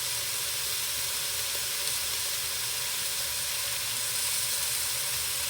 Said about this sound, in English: we're not really cooking it, we're just searing it, locking the flavor